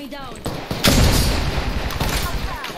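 Rapid gunfire from a weapon in the video game Apex Legends, loud bursts building around the one-second mark and continuing in dense volleys, with game effects and voices mixed underneath.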